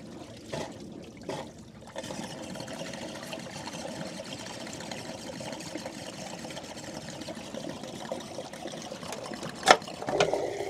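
Water drains from the plug openings of a swimming pool pump during a pool closing, a steady close trickle and dribble of liquid with a few knocks and clicks near the start and a sharp clink toward the end.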